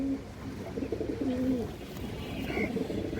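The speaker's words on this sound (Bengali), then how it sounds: "একটা বাঘা মাদি কবুতর আছে" A large female pigeon coos in a low, throaty, repeated rhythm, close and fairly clear, with other pigeons faintly cooing nearby.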